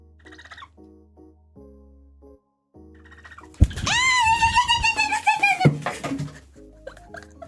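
A human voice imitates a bird chirping, giving a run of high, wavering squeaky calls after a few short spoken sounds and quiet gaps, close and fairly loud.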